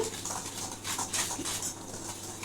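A spoon works through semolina cake batter mixed with cardamom powder in a bowl, making a short run of soft scraping and clinking strokes, quiet and close.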